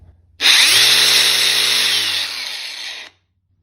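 A DEWALT 20V cordless grinder snaps on with a loud, close whine, runs for about two and a half seconds, then its brake pulls the pitch down quickly to silence.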